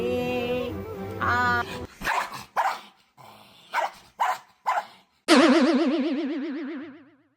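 A tied-up dog barks in about six sharp, separate bursts, fairly close and loud, followed by a wobbling, springy boing-like tone near the end.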